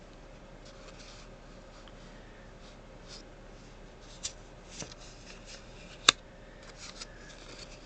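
Tarot cards are handled and shuffled close by, producing soft papery rustling and a few distinct light snaps and taps against a faint background hum, with no speech.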